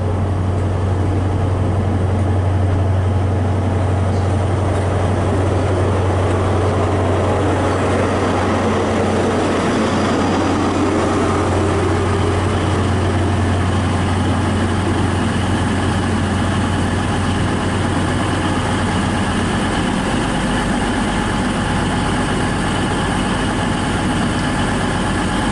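Two coupled CrossCountry Voyager diesel units, 221119 leading, idle at a Bath Spa platform, a steady low engine drone and vibration holding near and constant for the whole stretch, with no talk.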